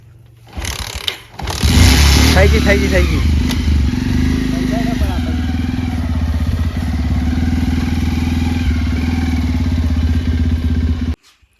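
A motorcycle on a farm fires up after a short crank, then settles into a loud, even idle that chugs steadily until it cuts off, with a voice speaking briefly near the start.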